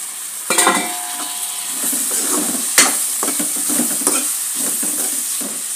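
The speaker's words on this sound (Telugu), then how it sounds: "ఇప్పుడైతే పచ్చిమిరకాయలు టమాటాలు" Green chillies and tomatoes fry in a pan, giving a steady close sizzle with repeated scraping and stirring clatter from a utensil. A sharper clank comes near the middle and no one talks.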